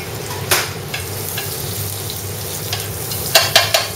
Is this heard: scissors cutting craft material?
no